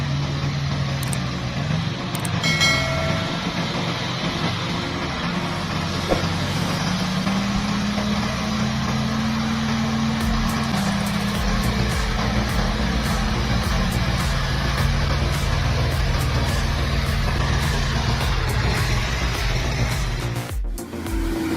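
A Carix 400 timber truck carrying a heavy load of wood labors up a steep slope, its engine a steady, loud low drone that holds throughout with little change in pitch and no voices.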